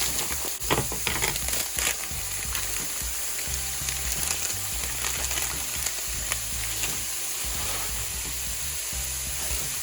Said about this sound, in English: now I'm going to add the coleslaw mix